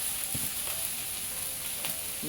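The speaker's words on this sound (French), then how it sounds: "On va les laisser cuire tout doucement dans la poêle." Tilapia fish frying slowly in a pan, a soft continuous sizzle with faint crackles and a couple of light stirring clicks, fairly quiet and with no voices.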